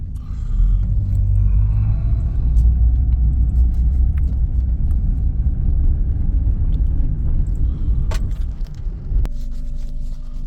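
A car engine idles and runs steadily with a loud, continuous low rumble throughout a short test drive, the engine having recently had its idle adjusted after stalling.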